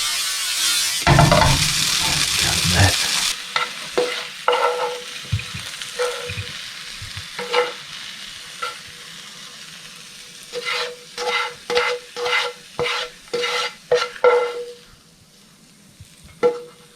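Fish goes into a hot frying pan with a sudden burst of loud, hissing sizzle that lasts a couple of seconds. A quieter sizzle follows, broken by repeated scraping and stirring strokes in a loose rhythm.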